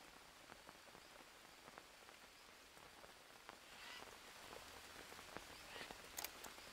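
Steady rain falls in the jungle survival game Green Hell, a continuous wash of patter on surfaces with scattered sharper drops, moderately loud and unbroken, with no one talking.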